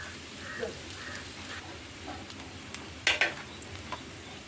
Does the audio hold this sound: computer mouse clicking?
no